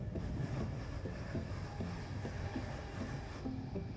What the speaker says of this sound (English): an Azuma came flying past,